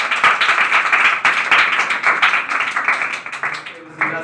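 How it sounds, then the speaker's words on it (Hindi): A congregation at a Hindi-language church service claps loudly in a rapid, continuous burst, with voices mixed under the applause. "हम लोग खुदावन यीशु मसीह के लिए जोरदार"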